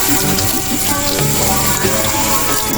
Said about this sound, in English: First, rinse off the kale in cold water.